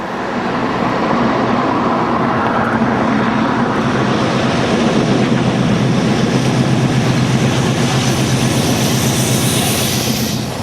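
A loud, steady diesel engine rumble and rolling rail noise as a Class 56 locomotive hauling a charter railtour passes nearby through Burton, sustained throughout with a deep drone.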